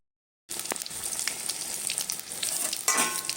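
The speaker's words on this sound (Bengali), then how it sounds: "ভেজে নিই বেগনি" Beguni, eggplant slices dipped in gram flour batter, fry in hot oil in a kadai with a steady crackling sizzle that starts after a brief silence and swells toward the end, close and without speech.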